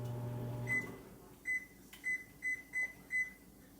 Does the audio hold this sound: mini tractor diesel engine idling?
no